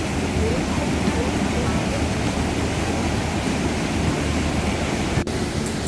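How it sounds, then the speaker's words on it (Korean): Waterfall in the Hwaak mountain valley, a steady broadband roar of falling water filling the scene without pause, loud and close. "여기 폭포예요, 폭포."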